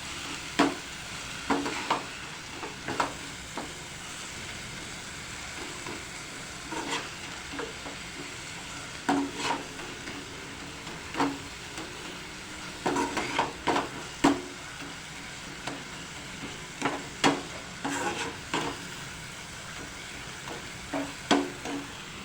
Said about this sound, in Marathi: त्यानंतर आपण बारीक चिरलेली मेथी घालून घ्यायची आहे छान असं परतून घ्यायचं आहे एक दोन मिनटं हलवत राहायचं आहे